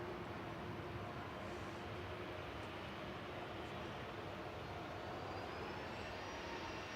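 A Ryanair airliner departs Manchester Airport, its jet engines a steady broadband roar held at even loudness throughout, heard from a distance with no voices.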